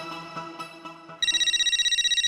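A phone rings in a Taarak Mehta Ka Ooltah Chashmah household scene: a short melodic ringtone phrase, then a loud, close, rapidly pulsing electronic ring repeating without pause.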